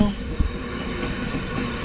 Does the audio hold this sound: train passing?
yes